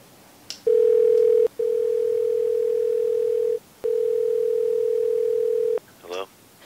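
A steady telephone dial tone hums loud and alone during a call placed to RSVP to a party, with one short break in the middle and a brief pause before it ends, followed by a faint voice at the close.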